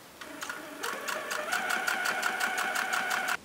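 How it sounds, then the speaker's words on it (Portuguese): Sewing machine stitching a fabric clutch, starting with a few slow stitches and then settling into a fast, steady rhythmic whirring and clatter, close and loud with no talking. "Terminando de costurar os dois lados"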